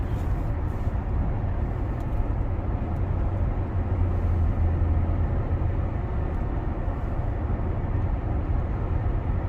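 Cabin of a Toyota Avalon Limited riding on new Blackhawk Street-H HH11 tires, windows up and AC off: a steady, quiet low rumble of road and tire noise that holds even throughout, with no voices.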